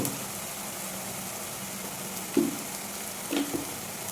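Spice paste frying in a clay pot, a steady soft sizzle running throughout, with a few brief stirring scrapes and bubbling pops near the end, close and moderately quiet.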